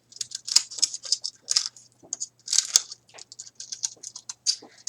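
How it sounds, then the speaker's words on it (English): Scissors trimming the rough edge of a plaster mask in a high school art room, giving a steady run of crisp close snips and rustles with short pauses, no talk. "you can use these scissors to trim around your mask."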